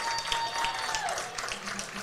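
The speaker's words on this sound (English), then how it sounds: "But he'll pass that ball off, gets a nice round of applause from the Bulldog crowd." Crowd at an Adrian College NCAA baseball game hosting Trine University applauding a departing pitcher, steady broadband clapping from the stands, moderately loud and continuous for the whole stretch.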